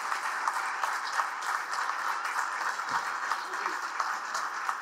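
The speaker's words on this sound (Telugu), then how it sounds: "చప్పట్లతో అభినందించుదాం" A gathering at a Savitribai Phule anniversary event applauds an Andhra Pradesh best-farmer award winner with continuous, dense clapping, fairly loud, and a brief low thump partway through.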